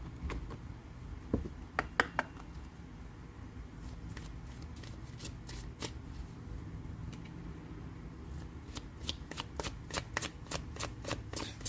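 A Moonology oracle card deck being shuffled at close range, with repeated crisp riffling bursts and scattered card flicks over a steady low background hum, growing denser toward the end; no talking.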